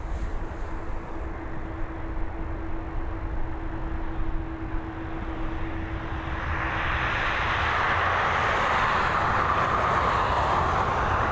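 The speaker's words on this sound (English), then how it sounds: "this 737 MAX outbound to Alicante" Boeing 737 MAX departing Dublin Airport outbound to Alicante, a broad steady jet engine roar that builds and grows louder toward the end, with a faint hum running underneath.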